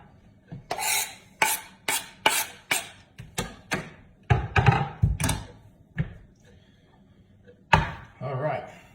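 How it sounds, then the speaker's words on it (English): A cutting board is scraped clean while cooking elk chili, with a knife or utensil making a series of short, rhythmic rasping strokes close by, about a dozen in all, with a pause before the last pair. "Now, what I'm gonna do next is clean off this board."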